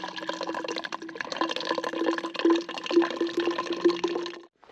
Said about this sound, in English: Makes it so easy to filter up your water, or bag up your water.